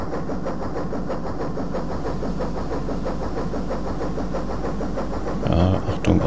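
A ship's engine in the Amiga simulation game Ports of Call, a loud, steady chugging rumble with a regular pulsing rhythm, a person speaking over it near the end.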